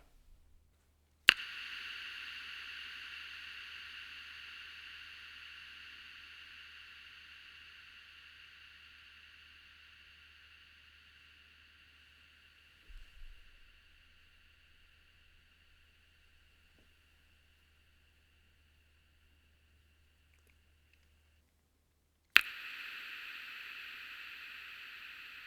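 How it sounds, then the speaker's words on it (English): A Sheeran Looper X with a reverb patch set to its longest tail plays a bright burst that decays slowly into a smooth wash lasting many seconds. A brief handling bump sounds midway, then a fresh burst comes in near the end. "put the tail the longest that is possible, so you can see the quality of the reverb tail"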